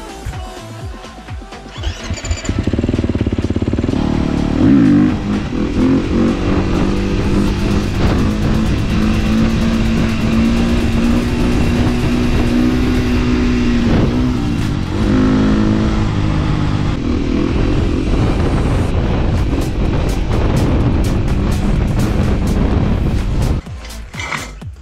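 Enduro motorcycle on a ride to the beach, its engine revving hard and then holding a loud, sustained drone with shifting pitch for over twenty seconds, close to the microphone, before cutting away near the end.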